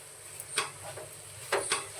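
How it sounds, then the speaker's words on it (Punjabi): Desi ghee being stirred into a sweet dish cooking in a pan: a faint low sizzle with a few brief scraping spoon strokes, close and quiet. "ਹੁਣ ਆਪਾਂ ਦੇਸੀ ਘਿਓ ਵੀ ਇਹਦੇ ਵਿੱਚ ਮਿਕਸ ਕਰ ਲਾਂਗੇ ਚੰਗੀ ਤਰ੍ਹਾਂ"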